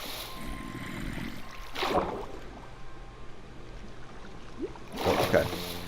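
Water trickling and gurgling in a small cave in Minecraft, a soft continuous flow with brief louder splashes, heard faintly beneath a person talking.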